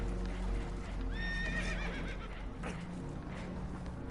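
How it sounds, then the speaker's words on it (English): Spooked horses in the video game Red Dead Redemption 2 give a sharp, shrill whinny over a steady low background rumble, followed by fainter snorts and restless stirring. "Horses are spooked, and we're taking on water."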